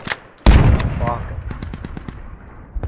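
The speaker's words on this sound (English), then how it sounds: "that leopard firing shots right over us is fucking terrifying" In a video game, a Leopard tank fires shots overhead: one heavy, close blast followed by a string of sharp, rapid gunfire cracks trailing off.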